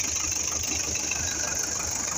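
An MTZ-80 tractor engine runs steadily in a field with a KPS-4 cultivator, a continuous close diesel drone with a rough, knocking texture and no speech.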